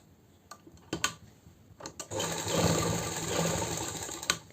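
A sewing machine stitches a kurti collar: a few short clicks and taps first, then a brief steady run of stitching before a final click.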